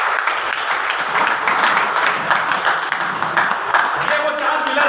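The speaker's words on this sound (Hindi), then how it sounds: "एक बार तालियां लोग लीडर्स के लिए हो जानी चाहिए।" Crowd applause for leaders at a Modicare achievers gathering in Shekhawati, a dense, steady wash of many hands clapping that fills the whole stretch, with voices mixed in.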